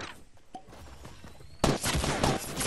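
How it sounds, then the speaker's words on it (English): Gunfire in the Fortnite match at Tilted Towers, a few faint scattered shots at first, then a sudden loud, dense burst of rapid fire in the final second. "I'm getting shot at, I'm getting shot at."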